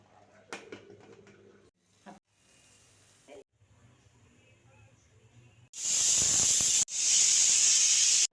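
A few quiet clatters, then a pressure cooker whistle bursts out close by in a loud, forceful hiss of steam, briefly cuts off, and resumes just as strong.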